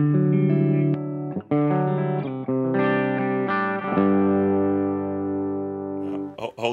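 1979 Yamaha SG500 electric guitar through an Akai Shred-O-Matic D1 pedal: loud, sustained distorted notes and chords rung out one after another, ending in a short burst of strumming.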